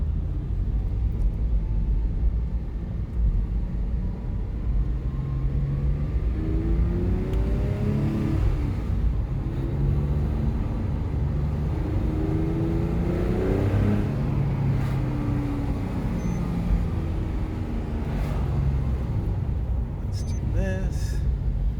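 A Porsche 997 Gemballa Avalanche tribute car drives through a residential area, its engine rumbling steadily from inside the cabin and rising and falling in pitch through gear changes, with a person talking over it.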